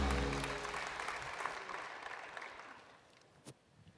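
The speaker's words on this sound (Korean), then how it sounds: "우리 성삼일체 하나님을 찬양하며 큰 영광의 박수 올려드리겠습니다" A church congregation at a Sunday worship service applauds in praise, the clapping loudest at first and then gradually fading to a few scattered claps.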